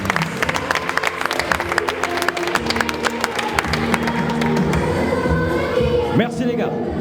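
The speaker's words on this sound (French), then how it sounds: "Une bonne applaudissement pour ces 4 guerriers du ring." An audience at an Olympic boxing event at the Jeux du Québec applauds four boxers, steady clapping from a crowd with light cheering, an announcer's voice heard over it near the end.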